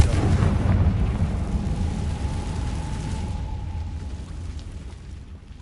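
The Confringo fire spell exploding in the video game Hogwarts Legacy, a loud rumbling blast that fades slowly over several seconds with no talk.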